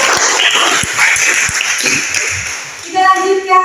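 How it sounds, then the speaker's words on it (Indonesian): Applause from a classroom of students after a group presentation, a dense patter of clapping that holds steady, then gives way near the end to a few brief ringing tones. "Berikan tepuk tangan."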